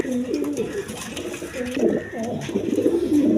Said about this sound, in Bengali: একদম বিগ সাইজের কবুতর